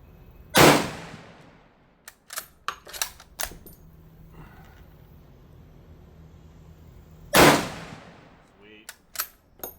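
Two loud, sharp rifle shots from WW2 Mosin M44 and M38 bolt-action carbines in 7.62x54r ring out several seconds apart, each with a decaying crack, separated by metallic clicks and clacks of bolt cycling and brass handling.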